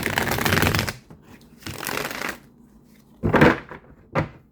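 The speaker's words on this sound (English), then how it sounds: "One more shuffle, Holy Spirit." Tarot cards being shuffled by hand during a reading, several crisp riffling bursts separated by short pauses, close and fairly loud, with no talking.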